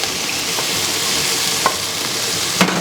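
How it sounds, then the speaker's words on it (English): Chopped onion frying in oil in a pan for adobo chicken, a loud, steady hiss of sizzling fat, close up, broken by a few sharp clicks of stirring. "into the pan now, I add a little more oil, and then some chopped onion"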